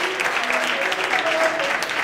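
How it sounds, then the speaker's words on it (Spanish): Students applaud their economics lecturer at the close of a university course, a steady, dense clatter of many hands clapping without a break. "No hacía falta aplaudir,"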